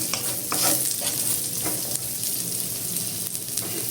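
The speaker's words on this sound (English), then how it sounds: "we are going to first stir fry our carrots" Carrots for chow mein being stir-fried in a hot pan, with a close steady sizzle and scraping, clattering stirring strokes every half second or so.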